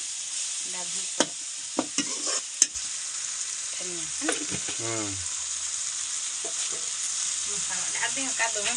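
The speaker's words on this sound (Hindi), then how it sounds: "चलाते रहिए" Spices, turmeric and green chilli among them, fry in a pan as they are stirred, a constant bright sizzle with sharp spoon knocks and scrapes, while voices speak briefly in the background.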